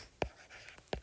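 Pen strokes on paper while exponents are written out by hand, two short distinct scratches about a second apart, faint and close, with no talk.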